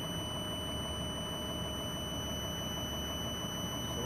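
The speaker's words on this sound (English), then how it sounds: "That's your buzzer here, because it's got to get the air brakes up. So it's an air brake warning." A truck's air brake warning buzzer drones continuously at a steady pitch while the air pressure builds, a constant electronic tone over low engine hum, with no talk.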